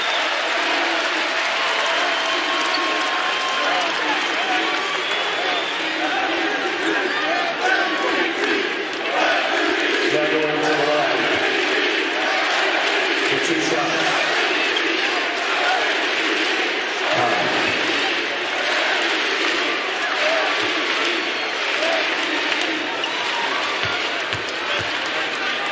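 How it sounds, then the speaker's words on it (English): A basketball arena crowd cheers and applauds steadily throughout, a dense, loud wash of clapping and shouting with a few louder swells. "The crowd recognizes what's happening here."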